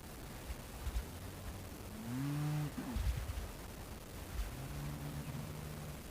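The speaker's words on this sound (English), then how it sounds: "So yeah, we still got a few cows." Cattle on a farm, including a zebu cow, low a few times at moderate distance, one long moo near the middle and another drawn-out call toward the end, over a steady outdoor background hiss.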